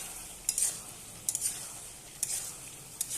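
Chicken skin sizzling as it's stir-fried in a pan, a soft steady fry broken by several light scraping stirs at close range.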